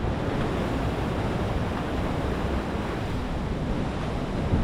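Ocean waves crash and surge steadily on a shallow stretch of shore near an island, a loud continuous roar of surf mixed with wind buffeting the microphone, with no voices.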